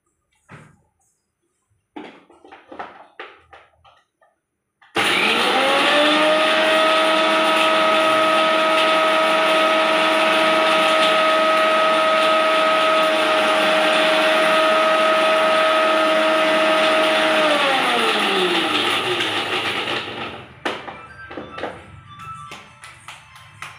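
A mixer grinder whirs steadily for about fifteen seconds, grinding cinnamon, coriander seeds, poppy seeds and cashews into powder, loud and close, with brief clatter before and after.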